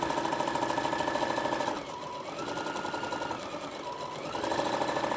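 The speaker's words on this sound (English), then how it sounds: "So I'm going to sew up one side completely." A sewing machine stitches a tote bag seam in a steady, close, continuous whir, with a brief slowdown partway through before it picks up speed again.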